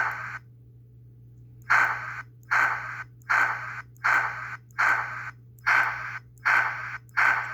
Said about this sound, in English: I'll have 4 digital soundboards for Chuff that work right and then sound like this